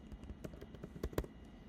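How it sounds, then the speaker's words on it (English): A short burst of crisp, close keystrokes on a computer keyboard while entering a shortcut in Affinity Photo: several quick taps, with the loudest pair near the end. No one speaks. "I just type a shortcut that I know"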